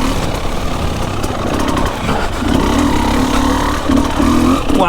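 An enduro motorcycle engine labors through a slippery wet lap in the rain, a loud close mid-pitched drone that rises and falls with throttle changes, steady throughout.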